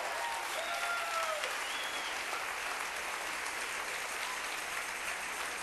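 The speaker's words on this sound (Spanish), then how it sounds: "Dale un aplauso bien fuerte al rey." Loud, sustained applause from a church congregation fills the space, a dense steady roar of many hands clapping at once with no break from start to finish.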